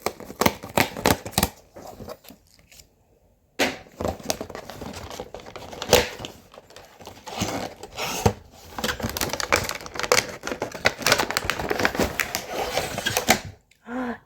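Cardboard tear tabs ripped open on a BJD doll blind box, a long run of dense crinkling, tearing and rustling with a brief pause early on and a short quiet gap near the end.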